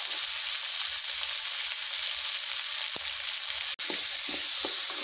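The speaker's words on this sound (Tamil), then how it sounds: "நல்லா செவந்துருச்சு வெங்காயம் கொட்டிக்கலாம்" Sliced onions fry in a pan with a continuous, even sizzle heard up close, broken by a couple of sharp clicks near the end.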